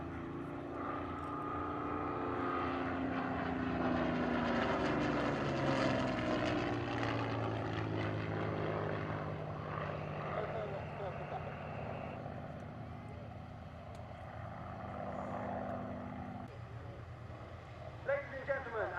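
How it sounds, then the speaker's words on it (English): Merlin engines of a Battle of Britain Memorial Flight display aircraft fly overhead at an airshow, a steady propeller drone swelling and fading with the flypast while an announcer speaks over it. "as we hear the sound of the Merlin engines once again"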